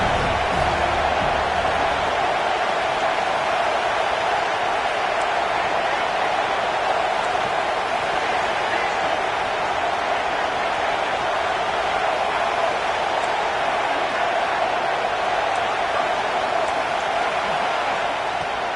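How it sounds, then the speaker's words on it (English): A football stadium crowd roars during a game, a dense, steady wall of cheering that holds at full strength without a break. "this crowd is turning it up a notch"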